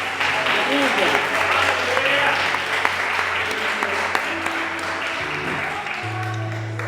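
Church congregation applauding steadily throughout, a dense continuous clapping with scattered voices and a sustained organ or keyboard tone underneath, no pauses.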